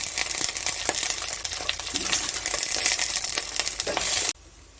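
Okra and prawns fry in ghee in a pan, a steady close crackling sizzle with scattered sharp pops, cutting off abruptly near the end to a faint background.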